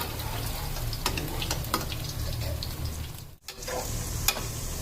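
Onion and potato pakoras sizzle and crackle steadily in hot frying oil while being stirred, with a few sharper clicks of the spoon against the pan and a brief dip in the middle; no voices.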